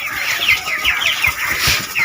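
Broiler chickens crowded in a farm shed give soft, rapid clucks and chirps. The calls repeat steadily at moderate loudness as a busy flock chorus, and no talking is heard.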